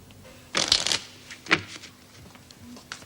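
Two brisk bursts of a deck of playing cards being shuffled at a table, a longer riffle followed by a shorter one, close and crisp against a quiet room.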